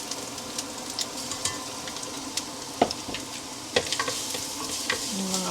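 Garlic crackles and sizzles in a hot pan, with a steady frying hiss broken by sharp pops and spatters.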